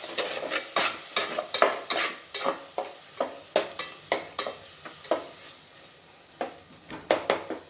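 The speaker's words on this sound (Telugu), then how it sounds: "బాగా వేపుకుందాము మొత్తం మిక్స్ చేసేస్తాం" Masala for a simple wedding-style pulao fries in a pan while a ladle stirs it, giving a steady sizzle punctuated by repeated sharp scrapes of the ladle against the pan, close and clear throughout.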